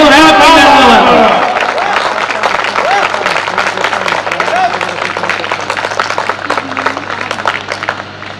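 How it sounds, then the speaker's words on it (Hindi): Audience applause at a Hindi kavi sammelan poetry recital, a loud burst of many hands clapping that continues steadily with crowd noise and some cheering, fading slightly toward the end. "तालियां कमजोर है आपकी दरबार।"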